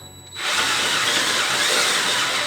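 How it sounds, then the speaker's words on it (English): A power drill bores into a steel overland bumper being fabricated for a classic GM truck, starting after a brief quiet moment and then holding a loud, steady, grinding whine close by with no talk. "It's so much easier than underhand drilling."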